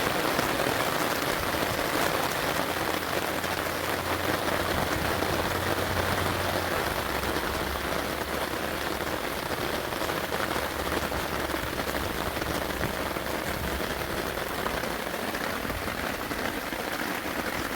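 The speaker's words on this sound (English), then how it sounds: "I'm underneath my canopy and the rain has started." Steady rain patters on a taut overhead canopy, a dense continuous drumming with a low hum underneath and no voices.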